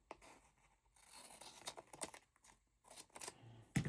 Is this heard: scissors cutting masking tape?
yes